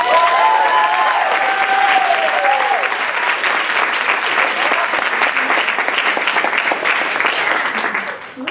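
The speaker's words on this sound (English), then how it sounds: "So can we please give it up for Miss Noha Ahmed?" Sustained audience applause at a university idea-exchange talk, steady clapping from a crowd filling the room, with a little cheering near the start before it tapers off at the end.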